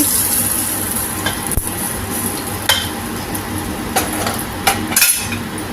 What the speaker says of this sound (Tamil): இதை எடுத்து நம்ம கத்திரிக்காயில் அப்படியே கொட்ட வேண்டியது தான்